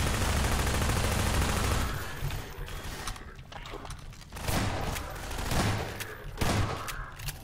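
Gunfire aimed at headcrabs in the video game Minerva: a dense, loud fusillade of rapid shots that thins out after the first couple of seconds into scattered bursts and bangs, with some faint talk underneath.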